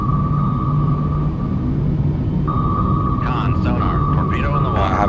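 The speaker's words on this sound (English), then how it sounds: "You heard the airplane going by overhead." An aircraft passes overhead in the submarine game Cold Waters as a low, droning rumble with a steady tone, while someone talks over it.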